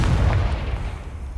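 Confringo blasting spell exploding in Hogwarts Legacy, a loud, booming burst that decays over about a second, with no speech.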